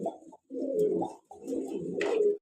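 Lahori pigeons cooing close by, three drawn-out, low throaty coos in steady succession with brief gaps between them, clear and without talk.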